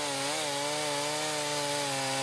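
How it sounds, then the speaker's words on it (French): A chainsaw whose dull chain no longer cuts well runs steadily through a tree trunk during limbing by a tree surgeon, a loud continuous whining drone with a slightly wavering pitch that lasts the whole time with no voices. "la tronçonneuse ne coupe plus très bien"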